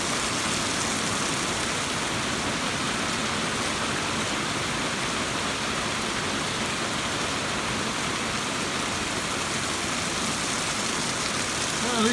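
Rain falls steadily on a roof over a farmyard with mulberry trees and hay, an unbroken broadband wash of drops at a constant moderate level, with no talking, for the full stretch.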